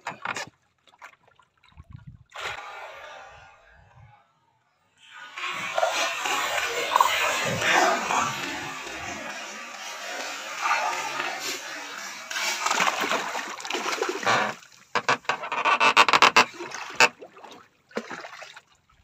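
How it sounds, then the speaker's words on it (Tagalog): A freshly caught mahi-mahi thrashes on a fishing boat, throwing up loud, irregular splashes and wet slaps in bursts, with people talking excitedly between and over the commotion. "Masyadong magalaw po yung mahi-mahi guys"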